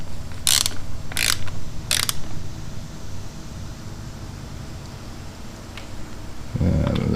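A torque wrench ratchets in three quick bursts while tightening the primary cover bolts on a 2006 Harley-Davidson Ultra Classic, followed by quiet, then a louder mechanical rumble at the end.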